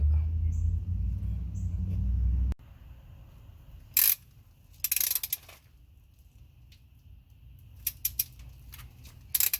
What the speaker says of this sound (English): I'm going to go ahead and start torquing the main bolts.